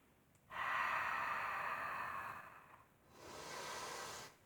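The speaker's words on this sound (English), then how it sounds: "Feels so good to breathe deeply." During a chair yoga session, a long, deep breath rushes in close to the microphone, followed after a short pause by a second slow, breathy exhale, with no talking.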